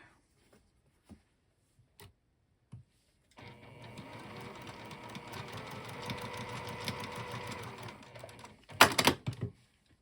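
A sewing machine runs steadily for several seconds, stitching a 1/4 inch seam through cork, followed by a louder burst near the end; a few small taps precede it and no one speaks.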